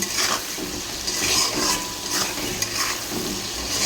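Potato and onion frying with spices in a pan, with a steady sizzle and repeated scraping stirs throughout, close and fairly loud, with no voices.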